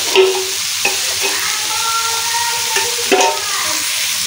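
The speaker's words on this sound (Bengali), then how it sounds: "আবার একটু নেড়ে নেব।" Ground coriander and chili powder fry in a pan with a steady sizzle, broken by several sharp scrapes and knocks as a spoon stirs them.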